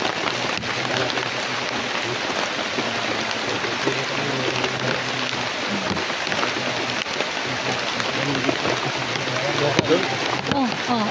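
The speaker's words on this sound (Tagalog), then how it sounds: "malakas po talaga yung ulan sa pag-explore namin ngayon" Heavy rain pours down in a constant dense hiss, while voices talk intermittently beneath the downpour.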